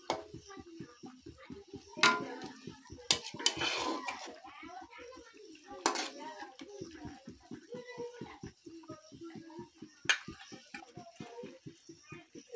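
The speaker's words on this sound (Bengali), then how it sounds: "নাড়াচাড়া করে নিলাম।" Fish being stirred in a metal cooking pan, a steady rapid clatter of a utensil scraping and tapping the pan with a few louder knocks, close up, with occasional quiet voices.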